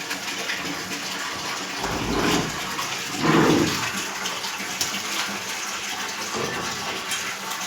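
Household water supply comes on and gushes steadily from a tap into a container at home, a continuous close pour that swells in brief surges without any voices.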